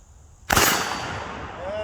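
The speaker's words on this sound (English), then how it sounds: "This is our very first shot with our Kentucky rifle." A single loud, sharp gunshot from a handmade Kentucky rifle cracks out close by and then rings off into a long decaying echo across an outdoor range.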